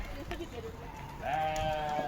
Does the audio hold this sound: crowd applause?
no